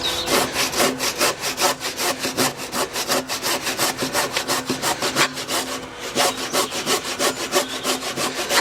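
Rapid, rhythmic rasping strokes of a hand saw cutting through plywood, steady back-and-forth close up and loud.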